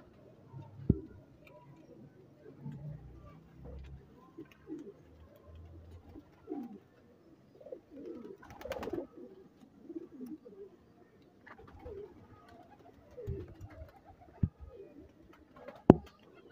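Several pigeons coo softly and repeatedly nearby, low throaty calls overlapping with occasional wing flaps and clicks.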